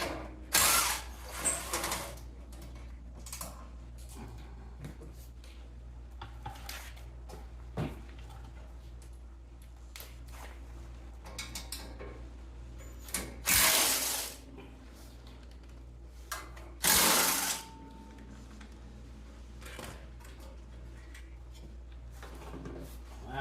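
Screw being removed from a panel on a Toro SnowHound 20 or Jacobsen 1450 SuperChief snowblower, scattered quiet metallic clicks and ratcheting with a few louder bursts of rattling, close by.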